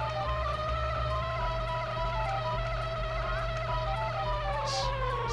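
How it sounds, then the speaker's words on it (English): A bee in the video game Banjo-Kazooie buzzes steadily and closely for the whole stretch, a constant insect drone over the game's background music. "Hyperactive little bee, isn't it?"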